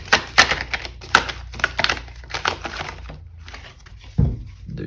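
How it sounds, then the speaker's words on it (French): Tarot cards being drawn and shuffled from a deck: a run of crisp papery snaps and flicks in quick bursts, then a quieter stretch with a soft low thump near the end. "Encore une carte."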